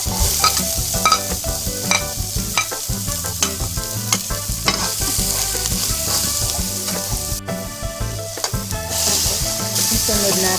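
Onion frying in hot oil for Filipino escabeche, a loud, constant close sizzle with repeated scraping and clinking of a spatula stirring the pan, with no talk.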